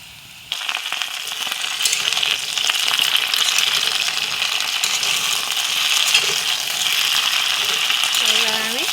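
Vegetables and onion frying in oil in a pan, a steady close sizzle with clicking, rattling stirs and scrapes throughout.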